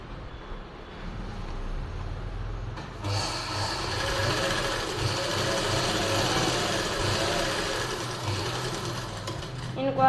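Sewing machine stitching a silk suit, running continuously from start to finish with a steady mechanical whir that grows louder after about three seconds, close by.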